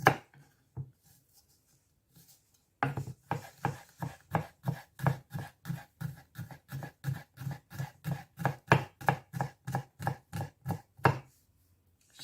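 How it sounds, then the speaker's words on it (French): A knife chops garlic on a cutting board while a steamed shrimp dumpling sauce is prepared, with about twenty quick, evenly spaced, close thuds in a steady rhythm, no talking. "un peu d'ail que je vais couper en petits"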